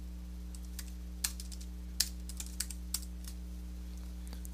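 Quiet, scattered keystrokes on a computer keyboard tap out a few short bursts over a steady electrical hum in a quiet room.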